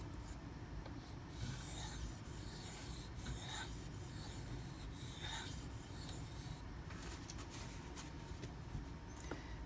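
A knife blade is dragged across a sharpening stone, a steady abrasive rubbing and rasping that carries on close and even throughout, with no one talking.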